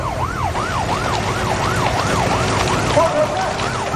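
A police car siren wails in a steady rising-and-falling cycle, loud and close on a motorway, over the rumble of road traffic.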